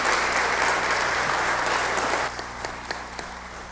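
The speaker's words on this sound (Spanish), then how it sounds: "aplaudamos esta propuesta" Audience applause in a hall during a televised public accountability session, a dense sustained wash of clapping that thins into scattered individual claps as it dies away.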